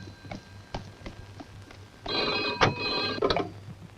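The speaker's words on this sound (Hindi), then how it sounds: "जरा टेलीफोन देखो।" An old-style telephone bell rings in a brief rattling burst, fairly close, with light knocks and room noise around it.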